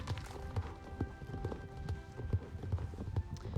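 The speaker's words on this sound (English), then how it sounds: "The horses here are also really pretty." Horse hooves clip-clop in a video game, a steady rhythmic series of hollow thuds at close range, fairly soft and with no talk over them.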